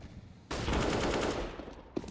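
Burst of rifle fire from a CS:GO match on the Nuke map, a sharp onset followed by about a second and a half of dense rapid shots, loud and close, ending in one final crack.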